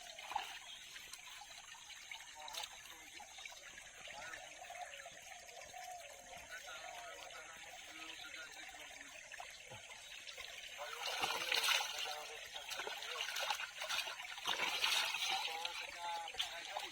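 Water from a forest spring trickles and dribbles softly nearby, a thin continuous flow that grows a little louder and splashier toward the end, with faint voices in the background.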